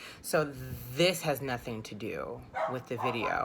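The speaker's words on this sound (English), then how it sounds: "if you hear a dog barking, that's because I have a dog who barks incessantly" A dog barks and yips in short bursts close by, overlapping a person talking the whole time.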